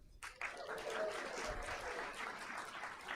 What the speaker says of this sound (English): So please cheer for everyone.